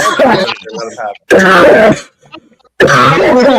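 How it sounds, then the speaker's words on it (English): Several harsh coughs and throat-clearing bursts in quick succession, loud and close, separated by short silences. "All the coughing you're doing."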